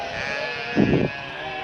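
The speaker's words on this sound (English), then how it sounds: "noisy sheep" A single sheep gives one short, loud bleat lasting about a third of a second over a steady outdoor background hum, with no voices.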